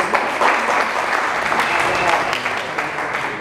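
Audience applause at a Greek carnival-season celebration held by a Grevena folk dance association in Thessaloniki, a steady, loud, continuous wash of many hands clapping throughout, with crowd noise mixed in.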